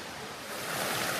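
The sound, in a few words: winter waterfall in Pennsylvania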